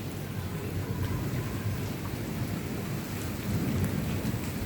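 Heavy rain pours steadily through a strong night thunderstorm, with deep thunder rumbling continuously underneath; loud, close and unbroken, with no voices.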